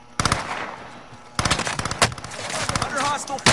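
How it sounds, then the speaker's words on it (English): Gunfire in the video game Call of Duty Warzone: rapid automatic bursts and single shots crackle loudly in clusters, with a brief lull between volleys and a voice speaking partly underneath. "Under hostile fire."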